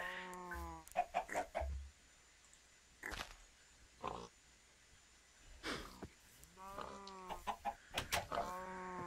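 Minecraft chickens clucking in short, repeated bursts of the game's poultry sounds, spaced out over several seconds with a few soft thuds and quiet gaps between them.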